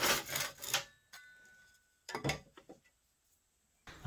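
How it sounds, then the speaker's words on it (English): A hand saw cuts wooden molding for a window insulation trim job, with two short bursts of quick rasping strokes up close separated by a quiet pause. "You can use any hand saw."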